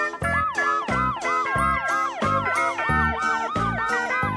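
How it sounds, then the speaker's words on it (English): An ambulance siren wails in rapid repeating up-and-down sweeps, loud and close, with a quick regular rhythm and no talking. "ambulance."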